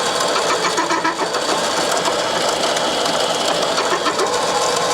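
A mini lathe counterbores stainless steel, giving a loud, continuous, harsh grinding and chattering whine that holds steady throughout with no talk over it.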